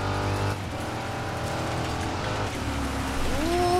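A GMC Sierra truck in the DIRT 5 racing game revs hard and climbs through its gears, a loud, close engine drone that rises and drops with each shift, then whines upward at the end.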